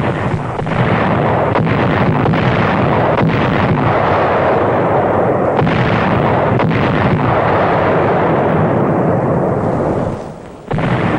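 Battleships shelling Roi and Namur in 1944 give a loud, dense, continuous rumble of heavy gunfire and explosions, overlapping blasts rolling together before briefly dipping near the end.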